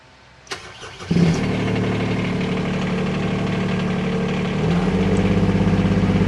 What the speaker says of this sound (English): So let's try out the big diesel excavator and see how it fares.